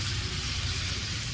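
Bitter gourd (karela) frying in a pan gives off a steady, even sizzle with a low, crackling hiss that holds without a break. No voices come through.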